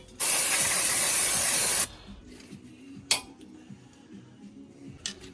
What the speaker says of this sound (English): A little drop of spray grease.